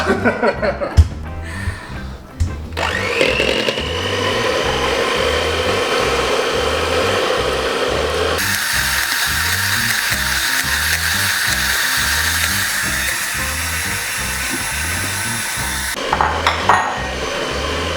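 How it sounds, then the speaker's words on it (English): Eggs and sugar are whisked together for carrot cake with a loud, continuous mechanical whir that shifts pitch partway through, with some knocks at the start and end. "while I'm whisking, I'm gonna throw the sugar in bit by bit while I'm whisking"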